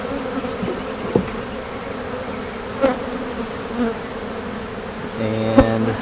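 Honeybees buzz around an open beehive in a close, continuous drone, with a few faint knocks and clicks from hive handling.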